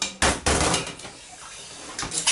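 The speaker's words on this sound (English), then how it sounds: "Now I throw them back in the pan." Clattering metallic clanks and rattles of kimchi ingredients tossed back into a pan, a few sharp impacts in quick succession, close by.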